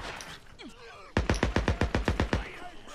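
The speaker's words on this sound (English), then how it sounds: "Because I'm hearing gunfire now." Gunfire in the video game Days Gone: after a quieter stretch with muffled sounds, a rapid burst of about ten sharp, evenly spaced shots rings out close and loud.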